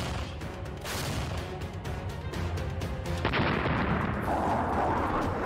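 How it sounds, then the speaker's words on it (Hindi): Russian artillery bombardment pounding Donetsk, with dense overlapping booms and bursts of fire in a steady loud roar, a sharper blast near the middle and rumbling continuing throughout. "डोनेत्स्क में रूस की भयानक बमबारी।"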